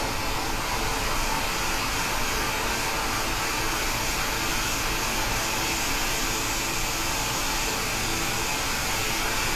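A hot air rework station blows steadily at 365 degrees with airflow set to 65 while working on an iPhone X board, giving a continuous, even, close hiss-like rush of air with no pauses.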